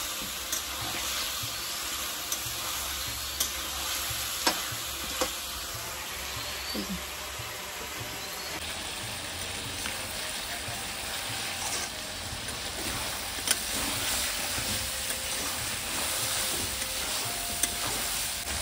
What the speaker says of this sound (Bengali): তো মাংসটা এই যে উনুনে করছি, কারণ উনুনের মাংস রান্না একমাত্র টেস্ট হয় খেতে।